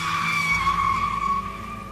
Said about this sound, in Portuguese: pisei no freio com força